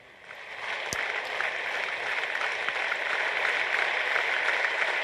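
A large hall of the Ukrainian Parliament breaks into sustained applause for the Prime Minister, dense clapping swelling quickly and holding steady.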